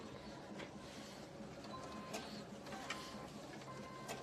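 A sewing machine stitches down a quilt block, a quiet, rapid, steady mechanical whir with faint clicks, close by and unaccompanied by speech.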